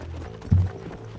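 A horse in Red Dead Redemption gives a single soft hoof thud with a low clop, heard briefly at close range over quiet background ambience.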